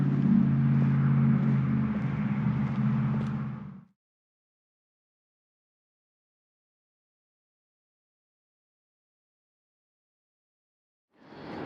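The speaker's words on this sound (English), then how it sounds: "I apologize for the loud truck going by in the background." A loud truck passes on a town street, a rumbling engine roar that fills the opening seconds and then cuts off abruptly into silence, before a faint rumble returns at the very end.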